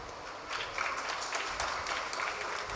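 Audience applause during a Tamil literary talk on printing presses and Tamil literature, a dense, steady wash of clapping across the hall that holds at an even level throughout.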